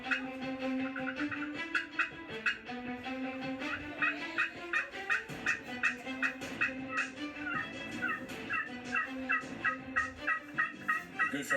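Wild turkeys gobble repeatedly in a rhythmic series of rattling calls, fairly close and clear, with several birds overlapping in the field at a turkey hunt in South Carolina.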